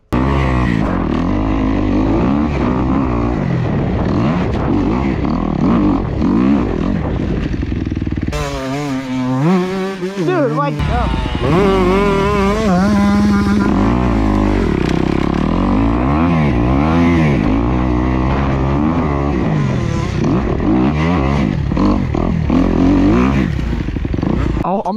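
Motorcycle engine running loud and close at a homemade road gap jump, revving steadily with throttle swells and gear changes throughout, with a brief dip midway, and a voice speaking over it.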